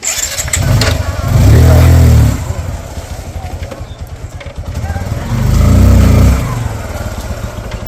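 A motorbike engine cranks and catches in two loud bursts of low rumbling revs a few seconds apart, close by, with a busy background and people talking around it.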